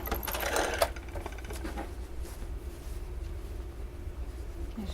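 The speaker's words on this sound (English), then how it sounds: "I'm going to sew this one to this main middle block" A sewing machine stitches quilt blocks together, a close rapid mechanical whir in a short burst at the start, then quiet room tone with faint handling sounds.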